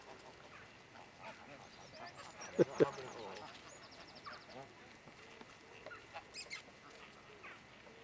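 Ducks being fed outdoors on a trip in England honk and quack in a few short bursts, with two sharper calls standing out, over faint background murmur and occasional voices.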